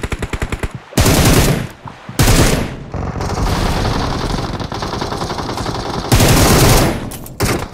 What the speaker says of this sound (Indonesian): Kok hilang-hilang suara tembakannya, guys?